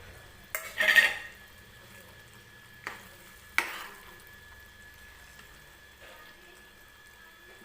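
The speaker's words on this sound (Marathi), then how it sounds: "तर हे छान असं मिक्स करून घेते मी" A spoon scrapes and clinks against a pan while paneer and green peas are stirred together, giving a few separate close knocks and scrapes with quiet pauses between them.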